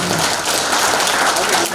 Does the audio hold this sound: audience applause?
yes